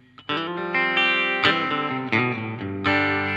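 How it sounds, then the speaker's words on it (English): Electric guitar chords through a budget Caline reverb pedal ring out loudly with a wash of reverb, each strum sustaining and blending into the next in a short strummed phrase. "this is the Caline reverb, little cheap 40 quid reverb pedal"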